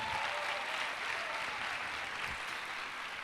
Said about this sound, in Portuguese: Nós podemos dar uma salva de palmas para o criativo.